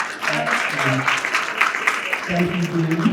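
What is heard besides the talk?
audience round of applause for Mayor Dean Mazzarella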